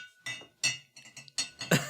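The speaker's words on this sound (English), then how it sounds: "you just hear like dozens of little glass vials clinking around together" Dozens of small glass vials clinking against each other, a handful of close, bright clattering bursts separated by short pauses, with the last jangle the loudest.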